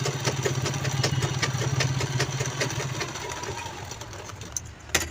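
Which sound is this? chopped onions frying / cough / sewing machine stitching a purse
sewing machine stitching a purse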